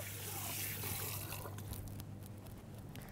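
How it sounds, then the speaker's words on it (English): A kitchen tap runs steadily while hands are washed under the stream, giving a close, even hiss of water with a softer splashing patter toward the end. "Wash my hands off again. Always have clean hands in the kitchen."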